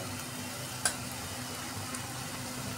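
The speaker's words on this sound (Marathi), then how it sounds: "हे सर्व टाकून व्यवस्थित तेल सुटेपर्यंत परतून घेऊ" Spice masala with red chili powder, turmeric and coriander powder sautéing in oil in a pan makes a constant even sizzle, with one sharp utensil tap early on and a faint scrape later; nobody speaks.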